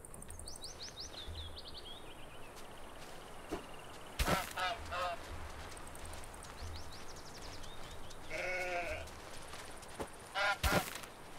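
Goose honks in the Force of Nature 2 video game, several nasal calls in short bursts spread across the clip, fairly faint over a quiet background with occasional soft footstep-like thuds.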